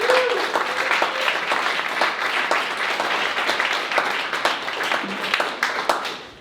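An audience at a speaker showcase gives a round of applause, steady clapping with scattered sharper claps throughout and a faint voice at the start.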